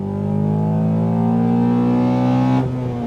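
A Honda engine on Transmission Gully revs up into VTEC, a loud rising harmonic howl climbing steadily for over two seconds before the throttle lifts and the note drops away.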